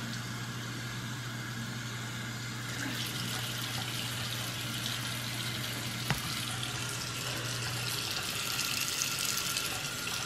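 Steady running tap water pours over a yarn project being rinsed in a sink, a constant close hiss with a low hum underneath.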